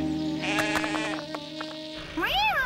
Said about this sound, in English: Look at those sheep up there on top of Greendale Crag.